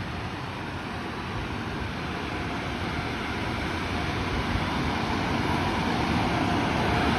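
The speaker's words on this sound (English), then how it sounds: "Wow, those car washes are so loud." A car wash dryer blasts a loud, continuous rushing roar of air, steady like a powerful blower, with no speech.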